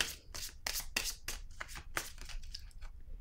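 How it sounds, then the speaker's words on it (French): A tarot deck handled up close while a card is drawn, giving a quick series of crisp, papery swipes and snaps at an even, busy pace with no voices. "je vais piger une carte ici"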